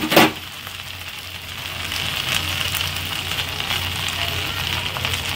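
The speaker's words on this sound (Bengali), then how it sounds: "এবার আমি চালগুলো দিয়ে দিচ্ছি।" Rice frying with cumin and peppercorns in a hot pan for jeera rice, a loud steady sizzle with a sharp clatter as the grains go in.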